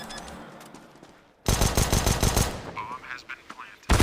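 Rapid automatic rifle fire in a Counter-Strike match on Dust2, a dense close burst of shots lasting about a second, then a pause and another burst starting.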